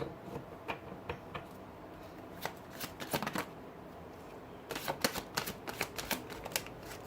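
Tarot cards are shuffled, drawn and laid out with quick papery flicks and soft slaps, a close, quiet run of riffling taps in irregular clusters.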